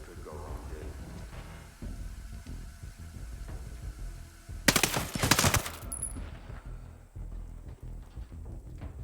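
Gunfire from the tactical shooter Ghost Recon Breakpoint: a loud, dense burst of rapid shots lasting about a second, rising over low game ambience and scattered small impacts.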